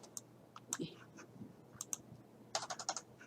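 Computer keyboard keys pressed in scattered clicks, a few single taps and then a quick burst of several keystrokes, close and fairly quiet in a calm room.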